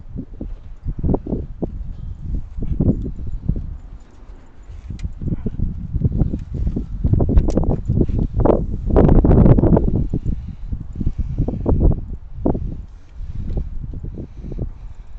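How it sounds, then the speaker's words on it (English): Wind gusting outdoors at night, shaking leaves into repeated rustling bursts that rise and fall in loudness over about fifteen seconds, fairly close and with no voices. "It's a little windy out tonight too."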